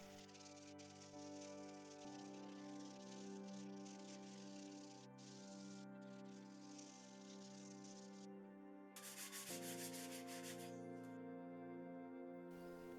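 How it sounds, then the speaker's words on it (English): Sanding filler on a water-damaged MDF table scrapes in long, steady back-and-forth strokes, a rough hiss that pauses and resumes, with a low electrical hum underneath. "I sanded down the filler to get a smoother surface"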